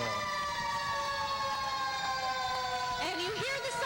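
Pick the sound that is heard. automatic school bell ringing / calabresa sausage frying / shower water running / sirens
sirens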